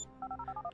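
A short electronic phone ringtone in Grand Theft Auto 5, with a faint repeating two-tone warble of quick alternating beeps, quiet and close.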